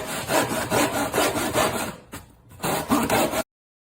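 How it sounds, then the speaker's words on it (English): A saw cuts through wood on a construction job, a loud close rasping with rapid back-and-forth strokes, a brief pause around the middle, then a final burst of cutting before the sound stops abruptly. "Slicing wood like absolute butter."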